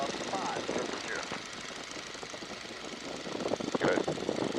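The radial engine of a Boeing N2S-3 Stearman biplane drones steadily at reduced power, around 1,500 RPM, in level flight, a rough continuous rumble heard from the cockpit under intermittent talk.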